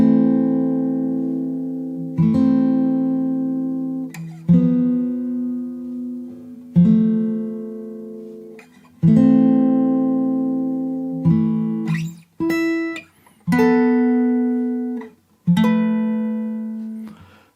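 Fingerstyle acoustic guitar in standard tuning plays the Elden Ring main theme alone, slow plucked phrases with ringing sustained notes and a brief run of higher picked notes near the end.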